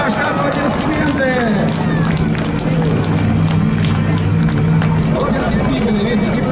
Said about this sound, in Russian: И ваши аплодисменты!